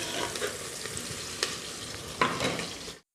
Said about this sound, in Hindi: अब हम इन दोनों को गोल्डन ब्राउन होने तक और थोड़ा फ्राई करेंगे।